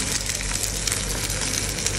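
Semi-dried Hokkaido fish pan-frying in a wok, giving a dense, continuous sizzle with fine crackling, close and steady throughout, with no voices.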